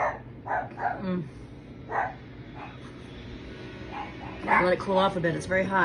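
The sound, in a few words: dogs barking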